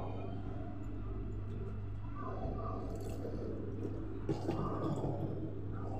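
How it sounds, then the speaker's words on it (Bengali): Batter is stirred by hand while water is added little by little, producing soft wet squishes and drips over a low steady hum. "আমি অল্প অল্প পানি দিয়ে গুলে নেব ব্যাটারটা।"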